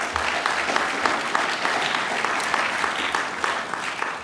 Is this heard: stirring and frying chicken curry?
no